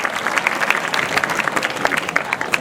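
Audience at a school street play against polythene bags, Old Faridabad, breaks into steady applause welcoming the principal, dense overlapping claps throughout with a faint crowd murmur underneath.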